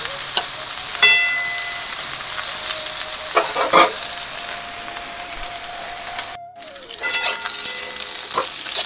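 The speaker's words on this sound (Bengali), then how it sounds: "আলু ফুলকপি ভাজা" Potatoes and cauliflower fry in a pan with a steady, close sizzle while a utensil stirs them, adding scraping and clicking strokes throughout; the sound cuts out briefly near the end.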